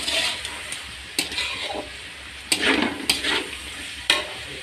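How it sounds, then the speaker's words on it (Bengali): Chow mein noodles and vegetables stir-frying in a pan, a steady sizzle broken by several sharp scraping stirs and clanks, close and moderately loud, with no talking. "এই যে দেখুন আমার চাউমিন আর সবজিটা ভাজছি।"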